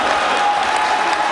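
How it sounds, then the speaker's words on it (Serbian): A handball crowd applauds in a packed arena, a dense wash of clapping filling the whole brief moment. "dobije aplauz na otvorenoj sceni večeras"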